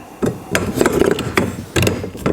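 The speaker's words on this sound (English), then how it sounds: "Give those a little bit of a tap." Plastic legs of a Spin Bin tumbling composter are tapped into place, giving several close, sharp knocks spaced irregularly over a couple of seconds.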